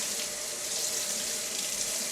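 Tap water runs steadily into a sink for washing dishes, a continuous close hiss and splash that holds without a break and has no voices over it.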